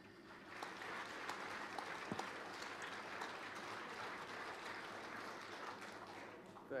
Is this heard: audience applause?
yes